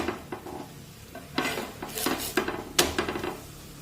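Methi thepla flatbread roasting on a hot pan, with soft sizzling under a run of scraping and clattering of a spatula against the pan in irregular bursts, close and moderately loud.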